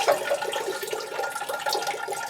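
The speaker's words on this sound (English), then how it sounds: "I soak the pot as well as those outside roots and make sure everything gets wet" Water pours steadily onto a plant pot and its exposed outside roots, a continuous close splashing and trickling with no talk.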